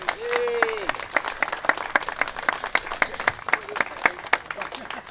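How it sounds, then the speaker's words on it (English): An audience at an outdoor electric vehicle event in a park claps for Craig, with steady, distinct hand claps in a loose rhythm and a brief voice near the start. "Clap for Craig for doing such a fantastic job here today."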